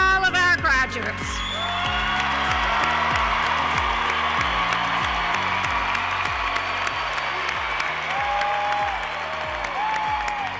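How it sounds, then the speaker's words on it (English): Graduates of the University of Saint Joseph class of 2019 receive sustained, dense applause with cheering and whoops from a large crowd at a graduation ceremony, steady and loud throughout, with a short burst of speech or yelling at the start. "Big round of applause for all of our graduates."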